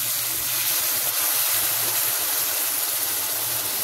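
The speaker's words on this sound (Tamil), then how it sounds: "கடுகு உளுந்து போட்டிருக்கேன். பொரியுது" Mustard seeds and urad dal splutter in hot oil while tempering for a banana-stem curd pachadi, a loud continuous hiss peppered with rapid crackling pops.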